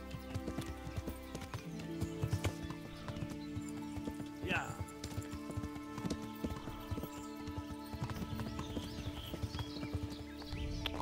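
Horse hooves clip-clop steadily in the video game Kingdom Come Deliverance, with a brief neigh partway through, set against constant game ambience and music.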